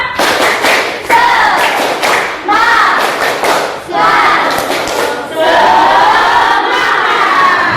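A class of children clap in rhythmic patterns and shout together loudly, energetic bursts of clapping and chanting close by.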